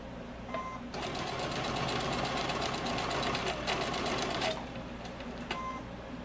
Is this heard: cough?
no